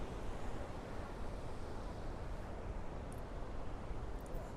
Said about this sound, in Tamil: அதிரப்பள்ளி வாட்டர் ஃபால்ஸு எவ்வளோ பிரம்மாண்டமாக கொட்டிகிட்டு இருக்கு பாருங்கள்.